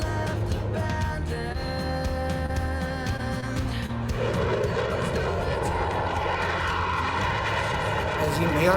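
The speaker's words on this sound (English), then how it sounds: "the Growler is a two-person jet" An EA-18G Growler two-seat jet at a simulated airshow drones with a steady engine roar in the distance, growing into a broader rushing swell halfway through.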